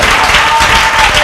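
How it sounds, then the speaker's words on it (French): A church congregation applauds during a French-language sermon, producing a dense, steady burst of clapping that fills the short moment at close, even loudness. "Applaudissez pour le Seigneur."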